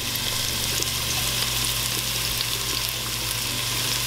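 Onion sizzling steadily in hot oil in a pan while a Somali dish is cooked, a dense continuous frying hiss that stays loud and close from start to finish with no talk over it.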